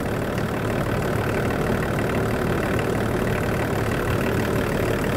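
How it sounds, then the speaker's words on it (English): Range Rover P38 engine idling steadily up close, a constant mid-low rumble with no talk over it, while a steel heater-core pipe drips coolant nearby. "So whilst it was idling away there"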